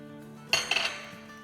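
A spoon clinks sharply against a dish as fresh coriander is mixed into an eggplant cutlet mixture: a few close, bright knocks in quick succession, then quiet, with no talking.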